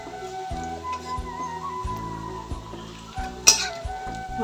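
Gram flour leaf fritters seasoned with nigella seeds fry slowly in a pan, giving a steady close sizzle and bubbling with occasional stirring and utensil knocks.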